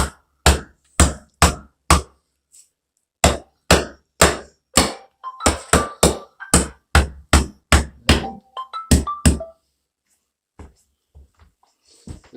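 A hammer drives a wall stud into place during a tub-to-shower conversion: a long run of sharp, loud, close blows, first in spaced pairs and singles, then a faster flurry, ending in a few lighter taps.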